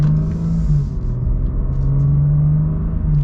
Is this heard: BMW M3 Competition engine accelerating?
yes